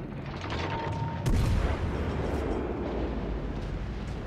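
Ship guns firing in World of Warships Legends during a Tier 8 Petropavlovsk battle, a heavy close boom followed by rumbling, crackling explosions and a continuous dense battle roar.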